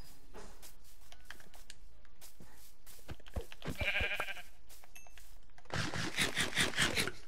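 Sheep in the Minecraft video game bleat in short synthetic calls, one midway and a few more toward the end, over game sounds and quiet clicks, with no voices.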